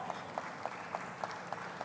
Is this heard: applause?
yes